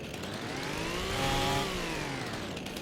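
Chainsaw cutting trees in Farming Simulator 25, a continuous buzzing engine whine whose pitch rises and falls in a smooth arc as the blade bites through the wood, loud and close.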